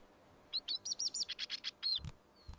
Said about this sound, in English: The sound of birds singing